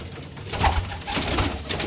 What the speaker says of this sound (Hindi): ये उनके ब्रीडर कबूतर हैं